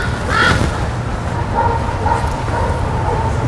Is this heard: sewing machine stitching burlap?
no